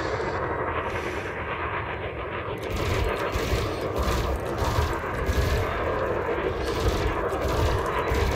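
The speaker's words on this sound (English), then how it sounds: "he's using multi-cannons against a shielded ship" Rapid multi-cannon fire rattles continuously from a ship in a space combat game, aimed at a shielded enemy, a dense loud barrage that intensifies partway through and keeps going to the end.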